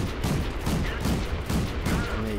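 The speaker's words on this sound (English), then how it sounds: "the 25mm auto cannon at these sort of ranges, where it's not that long range, is very effective gun" A 25mm autocannon on the Renault FT AC tank destroyer in World of Tanks fires bursts of rapid, heavy shots in a dense, continuous rattle, with repeated thumping volleys pulsing close and loud throughout.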